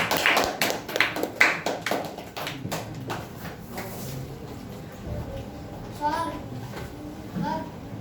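Scattered hand claps from a small audience at a children's public speaking competition, a quick burst of separate claps early on that thins out, with a voice and other talk continuing over the room.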